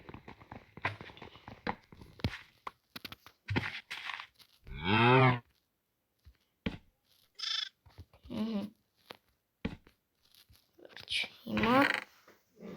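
Cows mooing in Minecraft One Block survival mode, several drawn-out moos spread across the clip between short clattering game sounds and footsteps.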